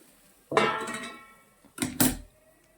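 A metal lid clangs onto a cooking pot of gram-leaf vegetable curry in a home kitchen, one ringing strike followed by two quicker clinks, close and alone.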